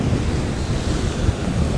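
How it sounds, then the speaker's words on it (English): Strong wind buffeting the microphone on a beach, mixed with surf, a constant loud roaring rush with no speech. "the wind just blew it right out of my hands"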